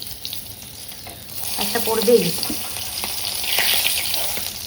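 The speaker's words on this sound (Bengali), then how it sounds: "এই যে বাটা মাছ ভাজছি" Bata fish frying in oil in a home kitchen, a steady crackling sizzle with stirring sounds, under a brief spoken remark.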